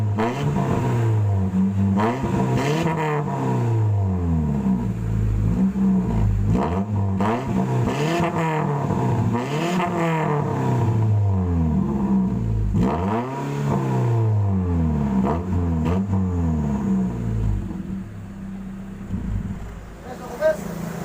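A Toyota Soluna GLI fitted with a JS Racing aftermarket exhaust revs repeatedly in rising and falling sweeps, loud and close, with people talking over the engine.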